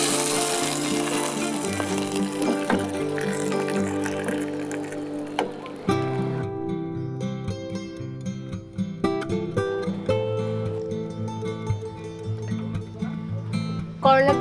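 Hot five-spice tempering is poured into lentil dal with bitter gourd, setting off a hissing sizzle that fades as the oil settles, with clinks of utensils and a voice talking over it.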